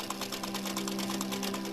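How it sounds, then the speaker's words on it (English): A sewing machine stitches fabric in a fashion workroom, a fast, even mechanical chatter with a steady motor hum running throughout, close and unbroken, with no speech. "Now I'm sewing for Paris Fashion Week"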